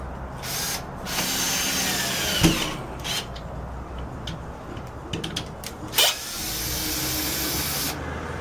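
A power drill drives screws through drywall into a wooden backing during a sheetrock hole repair, heard as a steady whirring buzz with brief louder bursts and a sharp clack near the end, alone without talk.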